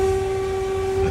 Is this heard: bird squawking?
no